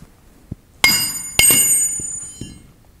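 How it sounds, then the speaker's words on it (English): A few sharp metallic strikes with ringing overtones as a hammer taps the shaft of a Tonisco B30 hot tap valve, two loud hits close together followed by fainter taps, nearby and without speech. "You can also use a hammer."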